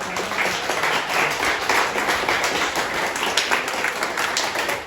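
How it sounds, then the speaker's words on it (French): Steady applause from an audience, dense overlapping claps sustained at an even level for several seconds. "Je pense qu'on peut encore faire un très bel applaudissement à Teresa et toute l'équipe qui est derrière."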